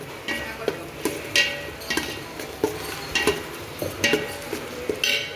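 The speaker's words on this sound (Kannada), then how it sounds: "ಇದನ್ನು ಕೂಡ ಚೆನ್ನಾಗಿ ಫ್ರೈ ಮಾಡ್ಕೋಬೇಕು" Masala-coated food frying in a pan while a utensil stirs and scrapes in steady strokes, soft sizzle underneath and frequent light metallic clinks, close and alone with no talk.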